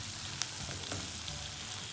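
Egg curry cooks in a pan with a steady, soft sizzle and light bubbling throughout, quiet and close, with no voices.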